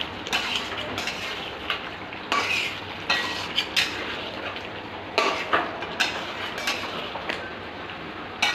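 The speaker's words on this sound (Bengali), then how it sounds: "এবার নাড়িয়ে আমি একটু নাড়িয়ে নেব, নাড়িয়ে চাপা দিয়ে রেখে দেবো" Chicken is stirred in a pan, with repeated close scraping and clattering of a metal utensil against the pan at an uneven rhythm over a low sizzling background.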